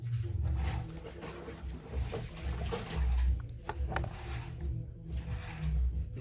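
Water poured into a seed mixture in a container in a village setting, a steady close gushing and splashing with rumbling low swells, continuous with no talk.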